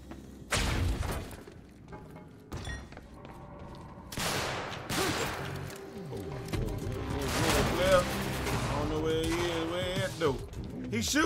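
Gunfire in the video game Quantum Break, set in an industrial area: irregular bursts of shots with thuds and shattering impacts, mixed with game effects and voices talking over the action.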